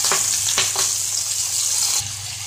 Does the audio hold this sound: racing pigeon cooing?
no